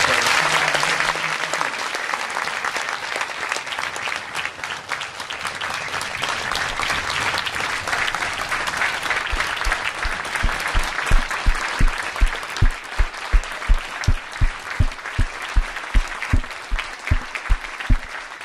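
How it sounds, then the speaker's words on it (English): Loud sustained applause from a hall-of-fame ceremony audience, a thick wash of clapping that gradually turns into rhythmic unison claps, evenly spaced beats standing out toward the end. "One more round of applause."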